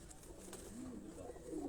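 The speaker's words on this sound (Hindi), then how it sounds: "सामने कबूतर हैं जनाब" Pigeons coo softly in a low, bubbling murmur at a loft, faint and somewhat distant over a steady background hiss.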